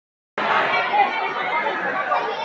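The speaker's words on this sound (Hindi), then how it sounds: "गाइस यहाँ पे आईडी बनाने के लिए देखो कितनी भीड़ लगी पड़ी है" A dense crowd queues for yatra ID registration at Katra station, a continuous loud hubbub of many overlapping voices that starts abruptly and stays steady throughout.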